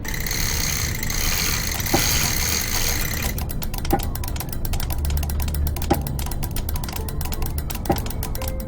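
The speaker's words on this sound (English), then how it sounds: "Now the clock is wound up." A mechanical clock in the video game Black Sails is wound up with a dense ratcheting clatter of gears. Spaced, regular ticks follow at roughly two-second intervals, with no talking.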